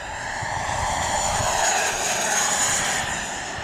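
A Flyfans MiG-25 Foxbat electric ducted-fan model jet whooshes past with a steady, loud turbine-like roar that eases slightly as the throttle is pulled back, with no talking.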